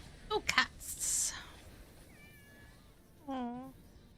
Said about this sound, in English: It made sad cat noise.